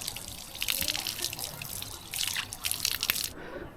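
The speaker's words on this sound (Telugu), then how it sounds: "ఇక్కడ ట్యాంక్ ఉంది కదా కాలు కడుక్కొని" Water from a hilltop temple tank splashes and trickles as feet are washed, a steady close splashing with irregular drips that stops abruptly near the end.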